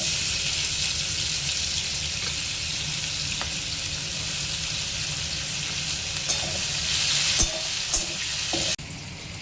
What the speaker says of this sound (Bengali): ফোড়নটা একটু নাড়িয়ে চাড়িয়ে ভাজা হয়ে গেলে এর মধ্যে কুচনো পেঁয়াজ দিয়ে দিচ্ছি।